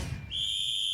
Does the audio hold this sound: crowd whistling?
yes